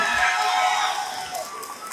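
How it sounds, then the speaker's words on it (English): A school assembly crowd at Englewood STEM cheers and shouts for the cheer squad, a loud, sustained wash of voices that swells early and gradually fades. "Y'all make some noise for the cheer squad."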